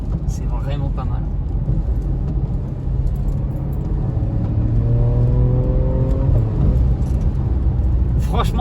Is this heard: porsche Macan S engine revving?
yes